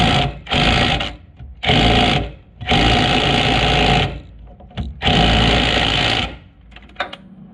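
Impact wrench fitted with a 32mm socket and uni joint hammering on a radius arm bush bolt of a Land Rover Perentie 4x4, running in four loud, close bursts of about one to one and a half seconds each, separated by short pauses.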